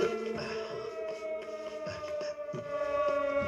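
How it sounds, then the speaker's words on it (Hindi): A warning siren sounds in a scene from a South Indian film, holding a steady, sustained wailing tone for the whole stretch at an even loudness, with no voices over it. "उस सायरन का मतलब सावधान होना है।"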